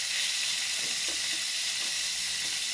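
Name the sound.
frying in oil, sizzling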